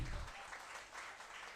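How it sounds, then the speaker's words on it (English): An audience at a nutraceuticals research event applauds in a steady, dense patter of many clapping hands, holding at an even level throughout. "And a big claps for them."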